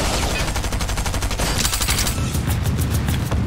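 Rapid automatic gunfire from the Fortnite video game, a steady rattling stream of shots running the whole stretch, loud and close with little break.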